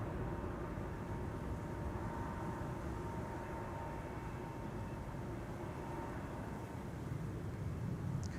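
Airliner taking off from Schiphol's Kaagbaan runway 24 ahead of rain, a distant, steady jet roar that stays low and even throughout.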